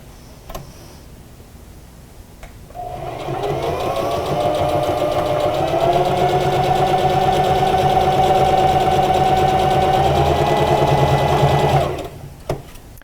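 A sewing machine stitches the cheek pieces of a fabric face mask, a steady whirring run of motor and needle lasting about nine seconds before stopping, close and loud with no talk.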